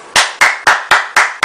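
Six sharp, evenly spaced hand claps ring out loud and close, alone with no voices, like a single person clapping after a card trick at home.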